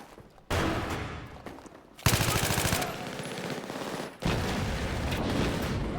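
Bursts of rapid automatic gunfire in Battlefield 3, with a sustained machine-gun rattle in the middle and loud chaotic shooting and booms around it.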